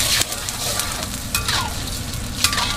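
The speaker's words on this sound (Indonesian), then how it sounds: "dia dah mendidih. Nampak? Dah pekat sikit." Sweet and sour sauce of chili sauce and tomato sauce thickening in a pan, a constant bubbling sizzle broken by a few scraping stirs.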